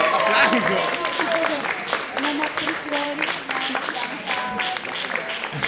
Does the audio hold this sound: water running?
no